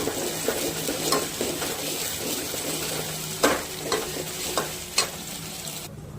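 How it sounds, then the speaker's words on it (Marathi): Onion-tomato paste with coconut sizzles in an oiled pan, with a spoon scraping and stirring in irregular strokes and a few sharper knocks against the metal, steady frying hiss underneath, close and without talk. "त्यात आपण आता ही पेस्ट घालू कांदा टोमॅटोची। ते छान असं परतून घेऊ।"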